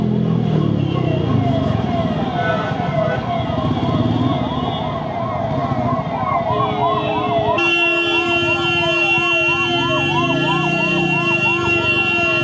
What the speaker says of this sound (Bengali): তো দুখানা অ্যাম্বুলেন্স পড়েছিল, তো সিগন্যাল তো খুলে দেবেই